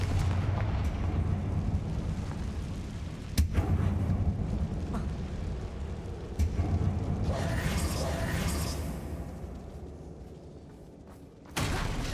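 A Confringo fire spell goes off in Hogwarts Legacy inside a closed mine: a rumbling blast with a few sharp cracks over a low, continuous drone, followed by a fading roar and one more abrupt burst near the end.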